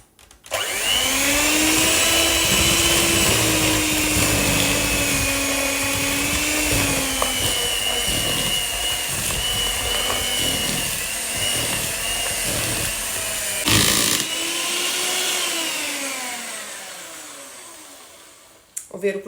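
A stand mixer beats flour into red velvet crinkle cookie dough at low speed, giving a steady, loud, continuous motor whir with a high harmonic whine for most of the stretch, briefly changing pitch midway before winding down at the end.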